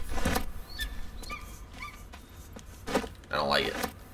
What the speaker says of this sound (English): Why does it sound like there's a puppy somewhere?